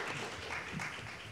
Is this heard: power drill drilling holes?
no